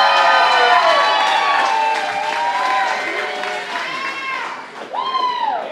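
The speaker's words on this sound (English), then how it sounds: "Let's hear a round of applause for JP." Crowd applause and cheering at a live stand-up comedy showdown in a brewery, loud and sustained with whoops and shouts layered over the clapping, swelling again near the end.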